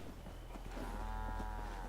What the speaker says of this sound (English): There's the Brahmin, the 2-headed cows.